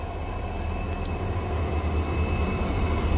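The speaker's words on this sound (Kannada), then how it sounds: "ಒಂದು ಓವರ್ಟೇಕ್ ಮಾಡ್ಕೊಂಬಂದಿದೆ ನಮ್ಮ ಟ್ರೈನ್ನ" A locomotive-hauled train overtaking on the line toward Hubli near Tolahunase junction rumbles past in a steady, loud, continuous roar with deep low-end drone throughout, no voices.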